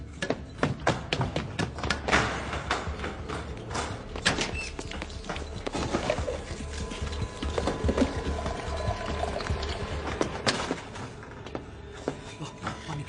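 Water is poured for someone to drink, a steady splashing stream broken by sharp knocks and clunks nearby. The scene is from the 2009 Hindi film Acid Factory, and no one speaks.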